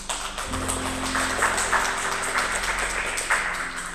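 A studio audience gives warm applause to welcome podcast guest Elena. The clapping is moderate and steady and continues for several seconds under a faint tonal hum.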